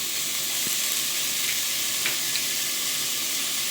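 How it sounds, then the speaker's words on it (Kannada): Onions fry with turmeric in a pan for an ash gourd curry, giving a constant bright sizzle with a couple of soft clicks from stirring, close and without speech. "ಈರುಳ್ಳಿ ಜೊತೆ ಫ್ರೈ ಮಾಡೋಣ. ಇವಾಗ ಇದಕ್ಕೆ ಸ್ವಲ್ಪ ಅರಿಶಿನ ಹಾಕೋಣ."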